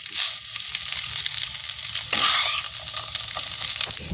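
Noodles and spice mix being stirred in a pan during village cooking: a close, continuous sizzle with crunchy scraping strokes and a louder burst of frying midway, with no talk.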